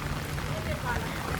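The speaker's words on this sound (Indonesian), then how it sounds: "Hujan." Rain falls steadily outdoors, a dense close wash of patter and hiss, with a voice talking over it.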